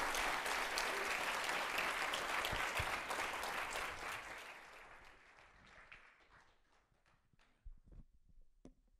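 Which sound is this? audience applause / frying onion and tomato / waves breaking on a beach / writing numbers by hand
audience applause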